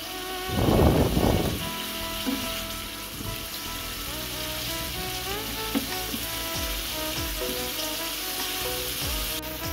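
Ginger garlic paste fries in hot oil in a wok for Golbari-style mutton kosha, a steady sizzle with a loud splattering burst near the start and background music tones throughout.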